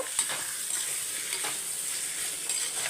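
Onions sauté in a pan for chicken thokku, a bright steady sizzle with a few light spatula scrapes as they are tossed.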